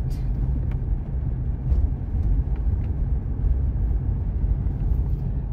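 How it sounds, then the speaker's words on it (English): A car drives along a two-way cemented barangay road through farmland in San Antonio, Quezon, with a steady, close engine and tyre rumble that stays even throughout and is heard alone. "we are driving to the left"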